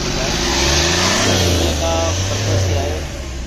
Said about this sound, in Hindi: गाड़ी जरा रेस कर, इसकी वजह से थोड़ा आवाज़ आ रहा है